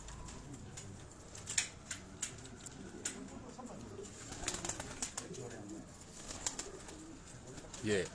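Pigeons on a rooftop loft at Golra Sharif, with soft cooing and clucking scattered through the clip amid a busy outdoor background and faint voices.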